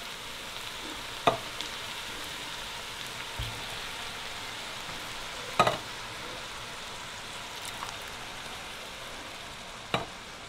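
Diced tomatoes with green peppers and onions, several cans' worth, stirred into a pot of Brunswick stew: a steady soft sizzle and bubbling with a few sharp spoon knocks against the pot, fairly close and with no talking.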